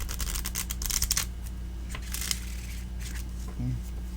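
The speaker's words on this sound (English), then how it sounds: "I'm thinking about making a video of nothing but shuffling" Animal Spirits knowledge cards are shuffled close by, giving a quick, crisp flutter of riffling card edges at the start. Lighter taps and flicks follow, with faint background talk.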